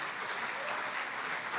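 A church congregation claps together as an offering to God during a Spanish-language sermon, a dense, steady wash of applause filling the room without pause.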